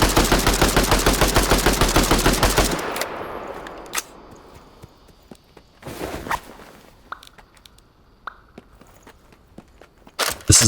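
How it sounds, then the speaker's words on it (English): An RM16 rifle fires in the video game Zelter, a rapid steady volley of close, loud shots that stops abruptly, followed by scattered single impacts and rustling footsteps, then a final sharp shot. "this is an RM16 rifle. It has slower rate of fire,"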